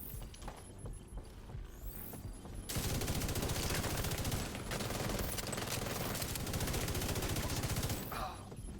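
Dense, loud sustained automatic gunfire in an Xbox shooter game, striking near the player and continuing for several seconds after a quieter stretch, with scattered game noises around it.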